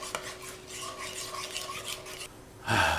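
Meatloaf ingredients being mixed together in a bowl, a steady wet rasping and stirring that runs for a few seconds, with a louder scraping burst at the end.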